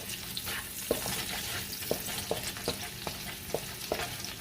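Ginger, garlic and onion sauté in a hot pan with a continuous close sizzle, punctuated by a regular series of sharp spatula taps and scrapes roughly every half second.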